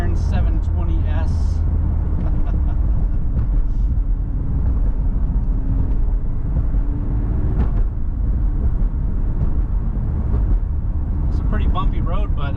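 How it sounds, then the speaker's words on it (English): A McLaren 720S supercar on a leisurely Monday morning drive over a bumpy road, its low engine rumble and road noise droning steadily beneath someone talking. "Just a leisurely Monday morning drive in the McLaren 720S"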